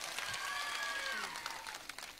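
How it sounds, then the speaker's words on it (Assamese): A crowd at an outdoor panchayat election rally claps in a brief, faint burst of scattered applause heard from a distance, with a thin tonal whine running through it. "সকলোৱে ডাঙৰ কৰি হাত চাপৰি"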